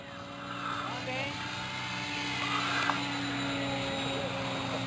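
Foam DR-1 RC model airplane making a fast, low flyby: a thin, buzzing electric motor whine rising and falling in pitch as it passes, moderately close, with voices talking over it.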